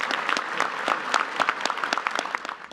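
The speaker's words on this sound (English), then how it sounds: "Let's give them a round of applause." Applause from an audience at a Houston community event, a dense run of many hands clapping steadily at moderate volume throughout, with no talk over it.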